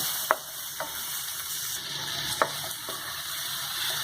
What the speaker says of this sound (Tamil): அது கூடவே வெங்காயம் ஆட் பண்ணி நல்லா வதக்கி எடுத்துக்கலாம்.